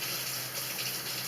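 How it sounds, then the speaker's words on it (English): A spoon is washed under a tap, with a steady, even rush of running water throughout the short stretch. "We're washing the spoon and putting it in the dishwater."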